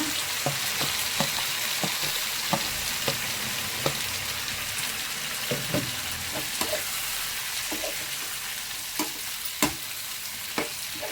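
Radish slices fry in oil for jujh radish bajji, giving a continuous close sizzle broken by scattered light clinks and scrapes of stirring.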